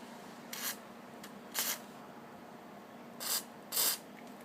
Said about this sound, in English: spray it this way towards the cap on the end, and just turn it.